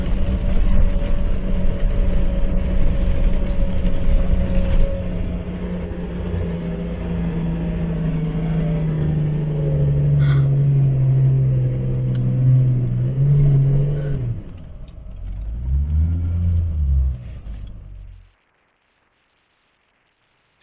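A four-wheel drive labouring up the Big Red sand dune in the Simpson Desert: a loud, close engine drone holding a steady pitch, then dropping and surging briefly before cutting out near the end.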